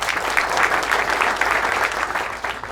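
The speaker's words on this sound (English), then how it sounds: "Big round of applause to you all." Audience applause fills the room, a dense steady wash of many hands clapping at close range without a break, with a faint murmur of the crowd underneath.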